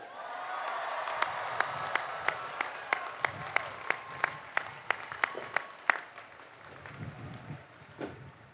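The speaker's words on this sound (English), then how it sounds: "give yourselves a big round of applause" At a university commencement ceremony, the audience applauds the graduating class of 2022, distant crowd clapping with sharp individual claps standing out, then fading toward the end.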